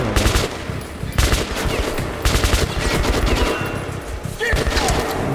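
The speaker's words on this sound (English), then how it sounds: "That was the rifle assault late in the game." Rapid bursts of assault rifle fire in the video game Metro Last Light, loud and close, with several dense volleys separated by brief gaps and some faint speech mixed in.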